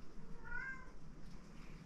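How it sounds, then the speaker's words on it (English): A house cat gives a single drawn-out meow, fairly faint against a low background hum, with no talk over it. "Can I always count on the caterwauling cats?"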